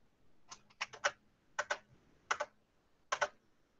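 Computer keys are pressed in four small clustered bursts, each a quick run of two to four clicks for a Shift Tab shortcut while working on presentation slides, close and fairly quiet over a faint low hum, with no talking.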